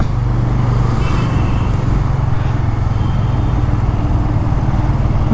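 A 2025 TVS Raider 125cc motorcycle rides through city traffic in third gear at low speed, its engine and wind a steady close rumble with faint traffic around it.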